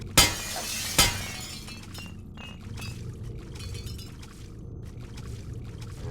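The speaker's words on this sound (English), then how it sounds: "It's a satisfying glass break sound" Glass shatters twice in Deus Ex Revision, a sharp crash followed a second later by another, with tinkling fragments trailing off into quieter ambient sound.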